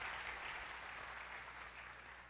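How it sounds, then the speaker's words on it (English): An audience at a 2001 Apple developer conference session gives a round of applause, a faint, even patter of many hands that fades slightly toward the end. "Let's give him a round of applause."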